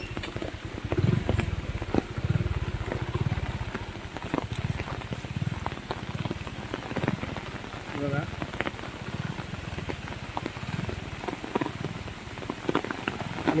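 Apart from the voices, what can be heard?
heavy monsoon rain falling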